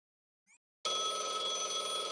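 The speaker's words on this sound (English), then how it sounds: "Oh, that's my phone." A telephone rings in the Blue Archive video game, starting abruptly after a brief tiny chirp and continuing as a sustained, bright, buzzing ring at steady volume with no talk.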